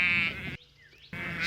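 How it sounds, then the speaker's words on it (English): A sheep on a farm bleats loudly and close by, two wavering cries separated by a short quiet gap, with no voices over them. "Sheep make that sound."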